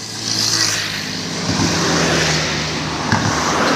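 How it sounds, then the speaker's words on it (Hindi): Road traffic crosses the Head Muhammad Wala bridge over the Chenab river near Multan. Vehicles rush past close by with a loud, continuous roar and rising engine swells, and there is no speech. "और बहुत ज़्यादा यहाँ से ट्रैफिक गुज़रती है"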